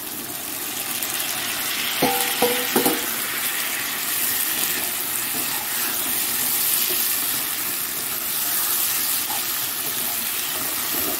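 Tomato dropped into a hot pan for an egg curry, with a few brief clatters near the start, then a soft, continuous sizzle and bubbling that runs evenly at low level throughout.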